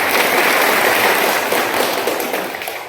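Crowd of attendees clapping at a peace committee meeting held at a police station compound in Godda, Jharkhand, ahead of Muharram; a loud, dense burst of applause that gradually fades toward the end.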